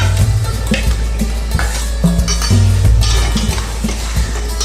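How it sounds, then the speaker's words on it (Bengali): Marinated chicken gets stirred with softened onions in a kadai for kabuli pulao, loud close scraping and clattering spatula strokes over a low, steady sizzle, with no talking. "ভালো করে একটু নেড়ে নিয়ে পেঁয়াজ আর চিকেন একসাথে মিশিয়ে দেবো"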